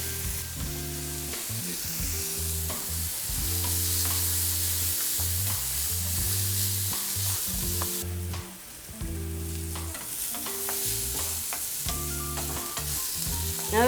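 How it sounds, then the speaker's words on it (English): Mushrooms seasoned with a pinch of salt and black pepper sauté in a hot pan, giving a steady close sizzle with periodic stirring clatter and a short lull partway through. "We're going to saute the mushrooms for about"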